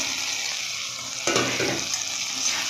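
Paneer cubes frying in spiced masala in a hot pan, a dense close sizzle that jumps louder partway through as the pieces hit the oil and are stirred.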